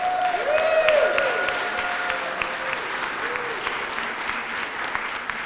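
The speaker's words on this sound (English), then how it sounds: "So please give a round of applause." A crowd at a Pride Month Mayor for the Day event in Waterbury, Connecticut applauds the police and fire departments, steady mid-distance clapping with faint voices and tonal whistle-like sounds underneath.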